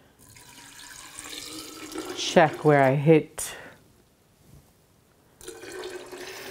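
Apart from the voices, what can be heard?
water pouring into a measuring cup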